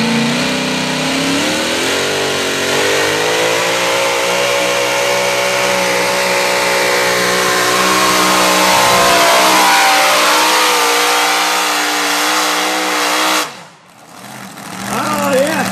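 Pro Mod drag race car engine revving loudly at a Columbus drag event, a sustained harsh roar with rising harmonics for about thirteen seconds, then briefly cutting off before revving again.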